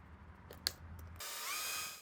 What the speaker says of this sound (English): I pre-drilled the holes from the inside, and then countersank them from the outside.